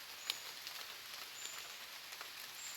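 Rain falls in a steady, soft hiss, fairly faint and even throughout, with a few sharper drop ticks standing out.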